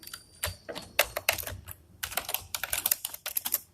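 C++ code is typed on a computer keyboard, crisp, close key clicks in quick irregular bursts separated by brief pauses, with no talk.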